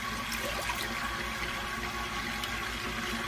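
An AquaClear 70 aquarium filter gurgles and sloshes after a restart, a steady broadband rush of churning water with bubbling splashes, close and continuous throughout.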